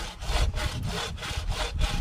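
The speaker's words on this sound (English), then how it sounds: "The ideal situation for sawing is really to have a suspended log" A hand saw cuts through a fallen tree log in the northern forest, with a steady back-and-forth rhythm of rasping strokes, about six of them, close and fairly quiet. No one speaks.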